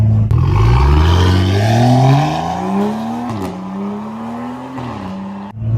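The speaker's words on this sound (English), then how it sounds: "The straight pipe exhaust sounds great. It sounds great from the outside." A loud car with an N55 engine and straight-pipe exhaust, heard from outside, revs and drones with a raspy, rising exhaust note, holding steady with a few throttle changes before cutting off.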